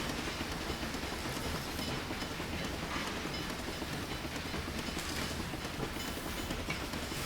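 A train runs on a route in the railway video game Railway Empire, a faint, continuous broadband rumble with no clear pauses.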